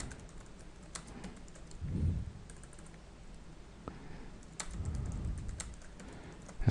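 A command typed on a computer keyboard: a run of light, scattered key clicks at an uneven pace, quiet and close, with a couple of soft thuds and no speech.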